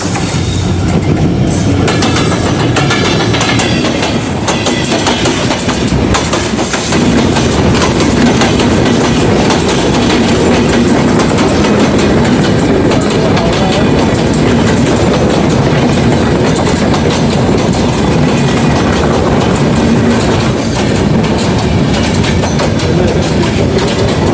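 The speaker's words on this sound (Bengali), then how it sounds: "ট্রেন চলে আসছে" A train rolls past on a railway line on a quiet morning, its wheels clattering in a steady clickety-clack rhythm over the rails, loud and continuous throughout with engine rumble underneath.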